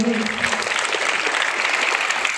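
Students at a secondary school assembly clap together, a steady, fairly close burst of applause that holds at an even level for a couple of seconds.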